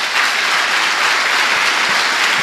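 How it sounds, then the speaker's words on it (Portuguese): A church congregation claps for the Lord in a dense, loud, steady burst of applause that fills the room throughout, without any voices standing out. "Dá uma salva de palmas ao Senhor."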